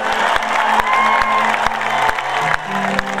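Steady applause from the crowd at a live Khatu Shyam jagran, sustained clapping mixed with a little cheering while music plays along under it.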